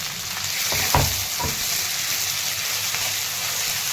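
Cumin, mustard seeds, peanuts, onion and curry leaves fry in hot oil for a Maharashtrian shev bhaji, making a steady close sizzle with a couple of brief stirring knocks near the start.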